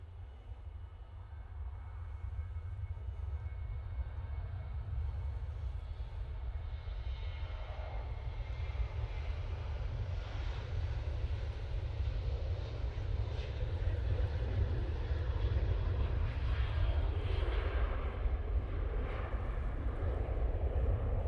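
Ryanair airliner at Manchester Airport, a steady low jet roar that swells gradually, heard from a distance outdoors with no talking.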